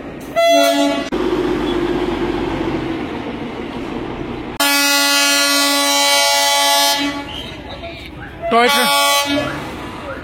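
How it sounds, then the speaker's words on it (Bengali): The Darjeeling toy train pulls into Kurseong, sounding its horn in loud, sustained blasts at the start, middle and end, with the rumble of the rolling train between them and people talking nearby. "টয় ট্রেন আসছে দেখুন, টয় ট্রেন"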